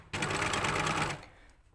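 An overlocker stitches a plain seam in a steady whirring burst of about one second, close and fairly loud, then stops and leaves a quiet tail.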